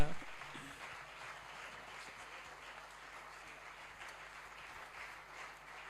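A church congregation applauding, a steady mid-distance wash of many hands clapping together that holds evenly throughout, with a low hum underneath.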